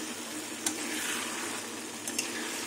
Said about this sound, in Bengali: আমি সামান্য একটু জল দিয়ে দেবো, মিক্সি বাটি ধোয়া মশলা জলটা